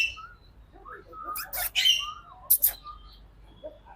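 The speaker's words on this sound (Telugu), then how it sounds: "ఇదే కదా మాట్లాడే పక్షి, వైట్ది." A white talking bird gives several short, sharp squawks and chirps at close range, separated by pauses, with faint low background noise.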